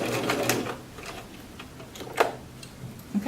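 A sewing machine back stitching while sewing a lap zipper, quick mechanical ticking and whirring in short bursts, close and moderately loud, with no talking.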